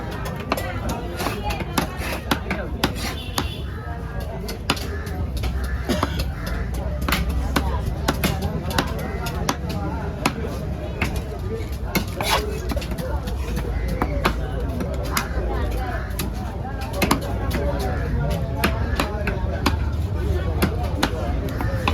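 A big trevally fish being chopped at a busy fish market, rapid hard knife thwacks into flesh and bone on a block, steady and repeated amid loud crowd babble and voices.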